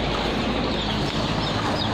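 Free-range village chickens clucking outdoors, soft clucks blended into a dense, steady wash of background noise, with no talk.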